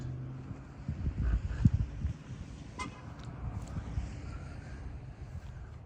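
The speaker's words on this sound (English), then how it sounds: "People honking and waving." Cars pass along a snowy mountain road and toot their horns, a couple of short honks and engine swells rising near at first, then fading to quieter road noise.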